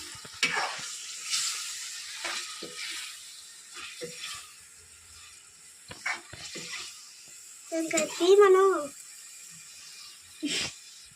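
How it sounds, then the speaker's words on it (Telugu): Chicken liver fry is stirred in a pan with scattered scrapes and soft sizzling bursts, faint and intermittent, while a person talks at a distance between the stirring strokes. "ఇప్పుడు మొత్తాన్ని కలుపుకుందాం."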